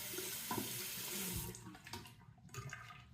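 Tap water gushes into a sink while a Gillette Labs razor is rinsed beneath the stream, a loud, close rush lasting over a second, then shutting off to quieter drips and small knocks.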